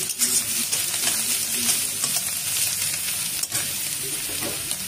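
Onions frying in goat fat in a home kitchen, a steady close broadband sizzle with faint stirring scrapes throughout and one brief dip near the end.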